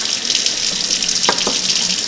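Water runs steadily from a kitchen tap as a broadband hiss with no pauses, while a couple of brief clunks land near the end. No one speaks.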